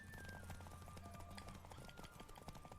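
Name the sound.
horse galloping in The Witcher 3 video game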